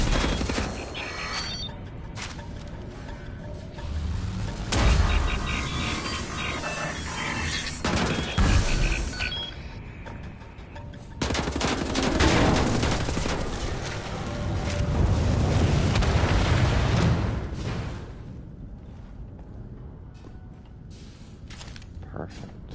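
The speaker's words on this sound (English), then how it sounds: "Are you shooting that through?" Loud bursts of automatic gunfire and impacts fill a shooter-game firefight in Wolfenstein: The New Order, rising and falling in waves with speech mixed in.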